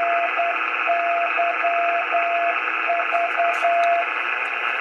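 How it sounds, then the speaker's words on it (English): Local non-directional beacons received on an Icom R71E communications receiver: a steady hiss of static with a thin keyed tone pulsing in Morse-like dashes and dots, moderately loud, with no voices. "But I'm hearing the local NDBs."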